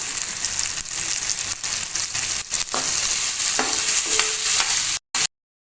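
Loud steady sizzling of green turkey berries frying in a pan, with scraping and clinking as they are stirred, ending abruptly.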